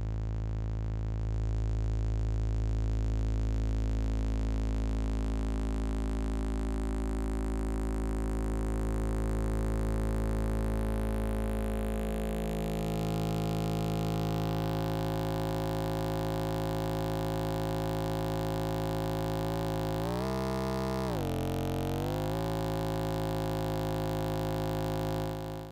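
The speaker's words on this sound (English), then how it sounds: "I'm gonna start folding it and we'll see what we get." A DIY wavefolder synthesizer module from the mki x es.EDU system folds a steady tone, a loud sustained buzzy drone whose harmonics shift and thicken as folding increases, with a brief dip and wobble near the end; no talking.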